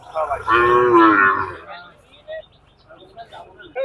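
Cattle moo loudly and close at a busy rural cattle market in Bagerhat, Bangladesh, with one long drawn-out low call followed by quieter market noise and voices.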